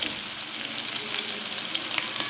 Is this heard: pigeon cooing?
no